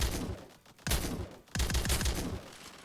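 Gunfire sound effects from an indie survival video game with guns and grenades: two sharp, loud bursts of shots, each followed by a rattling tail, set against a dense, noisy background.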